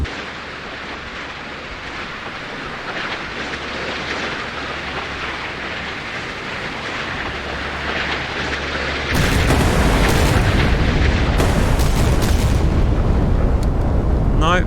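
Naval missile strikes and explosions in the Sea Power naval combat game, Chinese 055 destroyer and 054B frigate engaged by Australian warships, with a rumbling roar that swells into heavy, loud booming blasts partway through.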